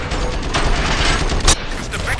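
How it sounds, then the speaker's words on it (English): Gunfire in RoboCop: Rogue City comes as dense bursts of shots over a noisy game soundscape, with a sharp louder crack near the middle. "Gunshots? What's going on?"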